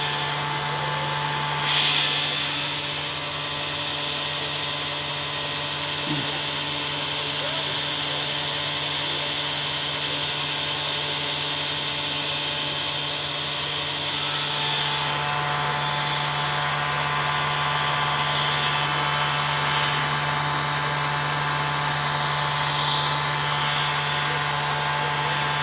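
Belt grinder bevel grinding a knife blade at a Waterfall Road hammer-in event, a loud, steady motor whine with a constant hum, the tone shifting slightly as the blade passes across the belt.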